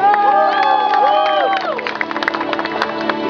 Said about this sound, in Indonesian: minta tepuk tangan buat kakak lagu